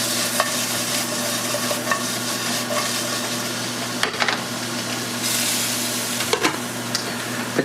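Tempeh and fajita vegetables with chili powder sizzle steadily in a pan, with occasional scraping stirs and a constant low hum underneath.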